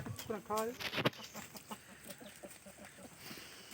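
Fighting roosters cluck and call nearby, loudest at first and then softer and scattered, with some low murmuring in the background.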